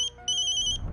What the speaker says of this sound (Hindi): अर्चना, किसका फोन है?